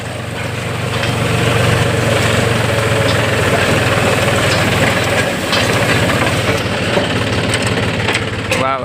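A tractor engine runs steadily at close range in a rural field, a continuous low rumbling drone with mechanical rattle that holds through the whole stretch, while a voice talks over it.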